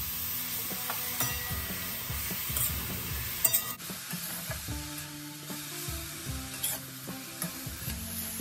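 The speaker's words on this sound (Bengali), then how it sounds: "ঘিয়ের সঙ্গে গাজর ভালো করে ভেজে নিতে হবে।" Grated carrot fries in ghee over a high flame, giving a steady close sizzle broken by repeated scraping and stirring strokes of a spoon in the pan, with no one talking.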